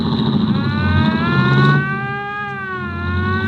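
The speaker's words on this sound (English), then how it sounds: "Turn off that siren, huh?" A wailing car siren with rising and falling harmonic sweeps blares loud and close in a radio drama, continuous throughout, easing slightly in pitch and volume midway.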